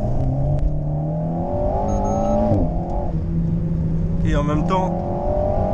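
An Alpine A110S engine revs hard and someone speaks over it. The pitch climbs, then drops sharply as the automatic gearbox shifts up, with the engine note heard from inside the car.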